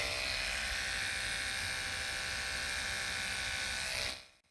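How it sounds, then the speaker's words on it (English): Electric toothbrush held against eggplant flowers to shake them for pollination, giving a loud steady high-pitched buzz that runs continuously before cutting off near the end. "You can use an electric toothbrush to shake the flowers to enable them to pollinate."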